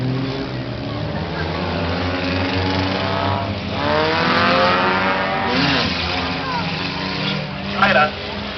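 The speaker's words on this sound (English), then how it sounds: "Brooks Sina in the number 21 car, up front your leader." Hornet-class race car engines roar and rise in pitch as cars speed past at Princeton Speedway, with a loud announcer-style voice talking over the continuous engine noise.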